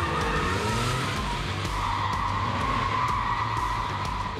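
A rear-engine, rear-wheel-drive Porsche 911 slides with a loud, sustained tire squeal and steady engine roar for several seconds, close and continuous with no talking.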